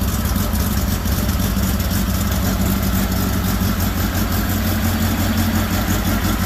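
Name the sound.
car engine running through exhaust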